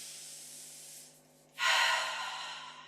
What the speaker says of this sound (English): Remembering to breathe.